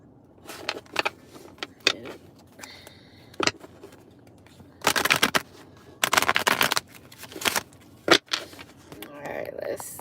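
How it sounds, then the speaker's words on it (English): Tarot cards being shuffled in quick bursts of crisp riffling and flicking, separated by short pauses, close and fairly loud, with softer handling noises in between. "I'm going to shuffle these cards up"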